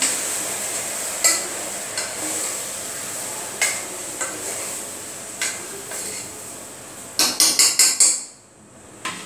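Ladies finger and tomato curry with chilli powder and salt being stirred in a pot, a metal spoon scraping and knocking against the vessel in scattered clacks, ending in a quick burst of four taps; no talking.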